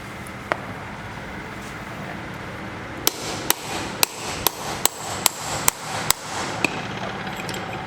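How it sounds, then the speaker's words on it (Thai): A single hammer tap, then a quick regular series of about eight sharp metallic blows driving a shock absorber seal into place, ringing close and loud against a quiet background. "ตอกลงไปนะครับ ให้ซีนโชคไปอยู่ในตำแหน่งที่ ที่เหมาะสม"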